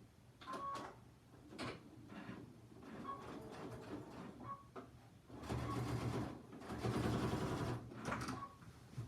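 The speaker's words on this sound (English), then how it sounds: "all I'm doing right here is I am top stitching those two pieces right into place" Domestic sewing machine top stitching two pieces of fabric into place for a zippy clutch, a steady mechanical whir running in short bursts and one longer, louder run, close up.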